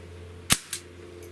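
Two sharp gunshots from a SIG Sauer MPX/MCX, a loud crack followed about a fifth of a second later by a weaker report, over a steady low hum.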